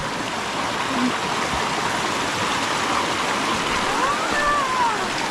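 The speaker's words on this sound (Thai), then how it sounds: "น้ำไหลผ่านตลอดเลย" Steady broadband rushing of flowing water, a forest stream beside a waterfall nature trail running continuously and fairly close, with a few faint bird-like chirps above it.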